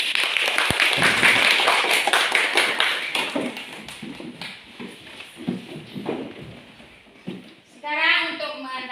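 A class of children in a religious lesson applauds together, a loud, rapid crowd of small hands that slowly fades into scattered claps, followed by children's voices talking.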